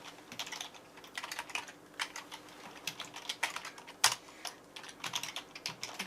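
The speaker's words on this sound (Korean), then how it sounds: "메타 협력 광고를 제가 먼저 쳐보겠습니다" Someone types on a computer keyboard, with soft, quick, irregular key clicks close by and one sharper key strike partway through, alone without speech.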